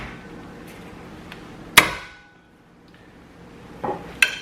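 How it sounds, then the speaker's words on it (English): A few sharp metallic taps ring out separately with quiet gaps between, a small hammer striking a car's rear brake rotor at close range. "I'm going to use this little hammer here and this, and we're going to get it to turn."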